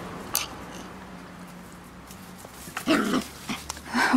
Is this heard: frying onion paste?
no